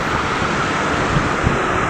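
Floodwater pours through the fully opened gates of a dam in a loud, continuous roaring rush that fills the whole clip, with no voices over it.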